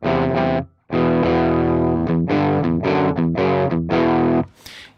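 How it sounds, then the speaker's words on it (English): An electric guitar played through guitar amp distortion in the Slate Virtual Mix Rack plugin rings out in loud, heavily distorted sustained chords with one brief gap, then fades at the end. "we're getting a little distortion."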